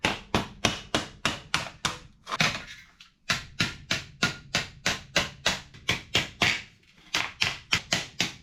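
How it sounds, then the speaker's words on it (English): Repeated sharp hammer blows on an MGB GT body panel seam, a quick steady rhythm of about two strikes per second with brief pauses, close and loud. "we're going to hit it with a hammer again"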